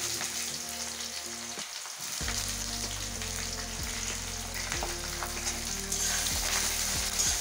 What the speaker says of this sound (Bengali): পেঁয়াজটা আমি লাল করে একটু ভেজে নিয়েছি